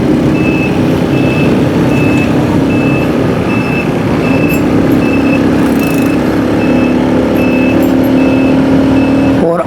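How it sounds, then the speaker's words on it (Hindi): Garbage truck on a city road sounding steady evenly spaced reversing beeps over loud engine and traffic rumble, continuing throughout. "कचरे वाली गाड़ी को खैराबाद कहना है"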